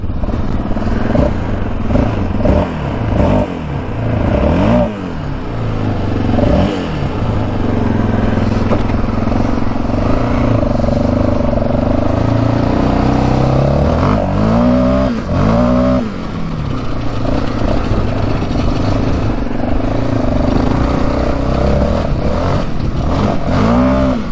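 A Yamaha Raptor 700 four-stroke quad revs and accelerates hard on a cold winter ride, its engine climbing and dropping through repeated loud pulls with rising pitch sweeps, close and continuous without speech.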